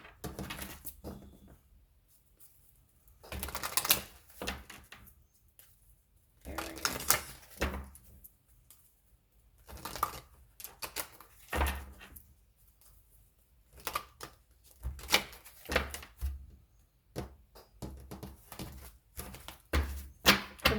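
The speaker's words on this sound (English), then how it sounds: "Sometimes I find it a bit hard to shuffle." Tarot cards being shuffled by hand in irregular bursts of riffling and tapping, with quiet pauses between each round of shuffling.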